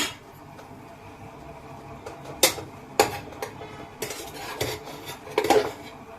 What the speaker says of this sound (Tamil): இதை ஒரு பாத்திரத்துல மாத்திரலாம்